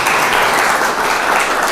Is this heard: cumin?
no